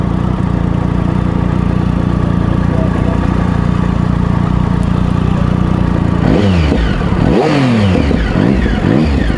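A Triumph Sprint 1050 ABS motorcycle engine idles with a loud, steady drone that sits close, then revs up and down several times in quick rising and falling sweeps toward the end.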